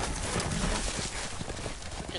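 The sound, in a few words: horse hooves and neigh in a Game of Thrones video game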